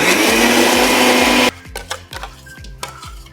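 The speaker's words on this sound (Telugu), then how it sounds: "ఆకుకూర మొత్తం ఒక 5 నిమిషాలు ఉడికిపోయిన తర్వాత దీంట్లో నీళ్ళు అస్సలు లేకుండా టైట్గా మిక్సీలో పేస్ట్ చేసుకోవాలి" A mixer grinder whirs loudly, pulverizing boiled amaranth leaves into a thick paste, then cuts off abruptly, leaving a series of rhythmic knocks and rattles as the jar is shaken and handled.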